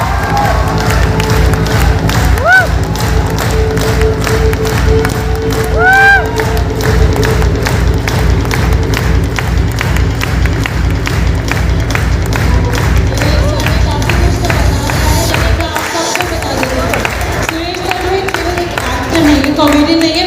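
A seminar audience cheers and claps loudly for a speaker coming onstage at a live business event, a dense, steady roar of crowd noise and applause lasting throughout, with thumps and a brief dip near the end.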